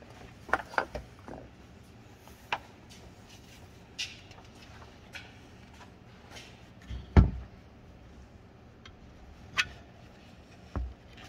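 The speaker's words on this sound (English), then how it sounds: "Oil pump turns." An engine oil pump's gears are turned by hand, producing sparse, faint mechanical clicks and ratcheting clunks at irregular intervals, close up in a quiet workshop.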